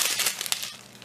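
A plastic bag crinkles during an unboxing of embroidery floss, producing a dense, fairly loud rustle of crackly bursts with no voices.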